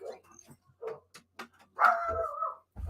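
A dog in Hawaii gives one drawn-out bark or yelp, close and fairly loud, after a few short vocal bursts, with a person talking around it.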